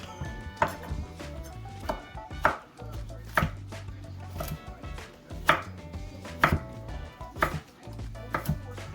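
A knife cuts vegetables into sticks on a board, with about a dozen sharp, close chops in an uneven rhythm over a low background hum and no talking.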